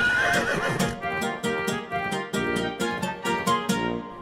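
A cartoon horse neighs and whinnies in a long, wavering call over hoofbeat-like clip-clops, loud and close with a steady rhythm and no talking.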